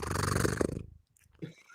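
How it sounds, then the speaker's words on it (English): A cat purring held close to a microphone, a loud rough rhythmic rumble that fades out after about a second, followed by a faint brief sound. "Can you hear her purring?"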